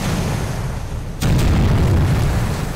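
Naval guns firing in the Pacific naval warfare game Victory at Sea Pacific, a sudden heavy boom that jumps over the ongoing battle rumble and keeps a loud, dense low roar afterward.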